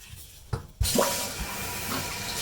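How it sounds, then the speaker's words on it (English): Water rushes into a toilet tank through a newly turned-on fill valve, a steady close hiss and gush that starts with a few soft knocks and keeps going. "the water should start filling right now all the way to the water line right here"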